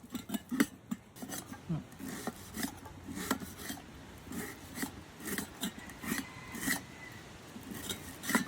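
A knife slices repeatedly through lemongrass stalks on a board, rhythmic crisp rasping cuts close by, with a brief scrape between strokes.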